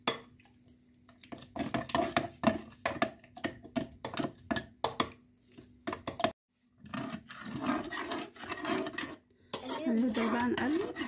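Chocolate and sugar being stirred in a pot for homemade chocolate Danette pudding, with repeated close scraping and clinking of a utensil against the pot in an uneven rhythm and short pauses between strokes.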